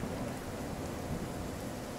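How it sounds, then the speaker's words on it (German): Heavy rain pours in the video game Nightingale, a dense, even roar of downpour that fills the whole moment without letup or any voices. "Schnell nach Hause, bevor uns der schreckliche Regen wieder schwer verletzt."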